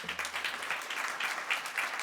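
Faint audience applause at a panel forum on the U.S. federal judiciary, a soft, even patter of clapping heard from a distance.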